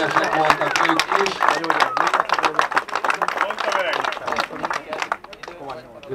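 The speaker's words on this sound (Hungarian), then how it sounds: "Nagy tapsot kérnénk szépen a H5-ösöknek" Applause from an audience at a rally award ceremony, with dense overlapping claps close by that run throughout. Voices talk over the clapping.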